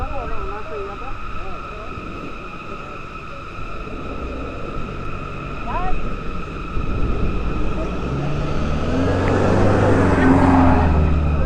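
A car drives past on a road near Aningalan in Antique, swelling from a steady rumble to a loud, close broadband whoosh over the last few seconds, with faint voices and constant road noise underneath.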